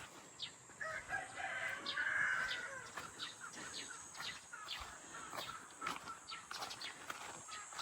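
A rooster crows, followed by chickens clucking and scattered taps and rustles nearby, fairly faint outdoors.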